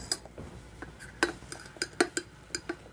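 Spoon scraping and clinking against a pan while a sugar and honey mixture for homemade marshmallows is stirred, a series of sharp metallic taps at an uneven pace, close and fairly clear with no talk.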